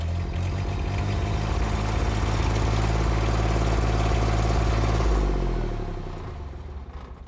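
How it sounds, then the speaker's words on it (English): The diesel engine of a Cimline M-Series crack sealing machine rumbles at a steady, heavy idle up close, with a clattering mechanical texture, then the engine note drops and fades near the end. "the engine can now be started by turning the key to position 2 momentarily"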